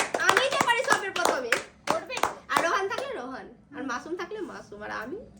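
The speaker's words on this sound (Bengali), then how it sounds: "হাততালি দাও হাততালি দাও" Children clapping their hands during a spin-the-wheel prize game: sharp, scattered claps under an adult voice that keeps talking.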